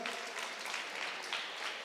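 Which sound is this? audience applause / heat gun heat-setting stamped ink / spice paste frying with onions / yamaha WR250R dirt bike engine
audience applause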